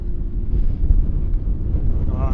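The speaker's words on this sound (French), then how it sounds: "Comme on entend le vent, c'est fou." Strong wind buffets the microphone in a steady low rumble, with a voice faintly present beneath it.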